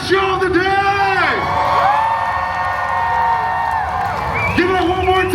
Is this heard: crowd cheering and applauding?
yes